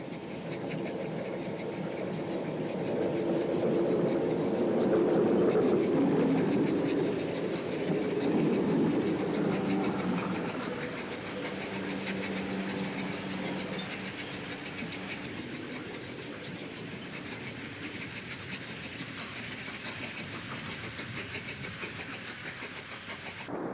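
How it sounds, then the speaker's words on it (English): On the Wirral's Seacombe branch, steam locomotive 4683 pulls away toward New Brighton as an electric unit on a West Kirby train arrives, with rolling wheels and rail clatter swelling to a loud peak near five seconds, then fading away. "As 4683 departs round the curve towards Seacombe Junction and on to New Brighton, an electric unit on a West Kirby train arrives."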